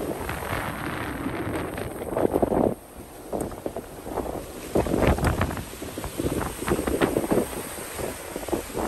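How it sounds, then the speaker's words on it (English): Strong wind gusts roar across a beach during Tropical Storm Alex, buffeting the microphone in a loud, continuous rush that surges and briefly drops before swelling again. "Wind gusts are picking up."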